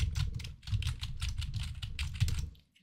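Fast, continuous clatter of keys on a much-used gaming computer keyboard, close and crisp with rapid irregular clicks and thuds that stop abruptly near the end.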